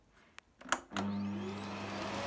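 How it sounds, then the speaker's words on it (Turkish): A few clicks, then a Philips Marathon Ultimate vacuum cleaner after a year of use switches on and spins up into a steady, even whir with a rising whine, close by. "Zaten bu sessiz bir süpürge."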